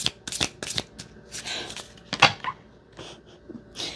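A deck of reading cards is shuffled and drawn up close, giving quick bursts of riffling and flicking paper with soft taps and slides between them; no one speaks.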